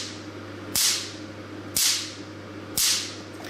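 Three crisp, loud snaps from a Picosure picosecond laser ring out about a second apart, each a sharp crack fading into a short hiss above a steady electrical hum.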